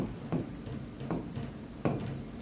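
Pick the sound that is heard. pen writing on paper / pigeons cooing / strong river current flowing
pen writing on paper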